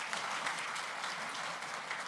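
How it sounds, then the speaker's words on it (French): An audience at the opening ceremony of an international entrepreneurship forum applauds with steady, dense clapping that stays even and fairly distant throughout. "Et ça s'applaudit."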